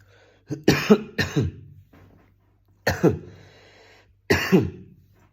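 Several harsh coughs sound close up in three bursts, two quick coughs in each, with short quiet pauses between them.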